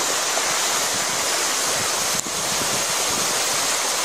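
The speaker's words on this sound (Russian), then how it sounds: "Под шум бобровой плотины" Water rushes in a steady, loud roar over the small waterfalls of a beaver dam on a little taiga river swollen with April snowmelt, a continuous broadband wash heard up close with no voices.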